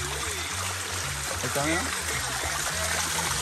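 Water trickles and dribbles steadily through broken clay water jars, a continuous close flow with a brief person speaking over it midway.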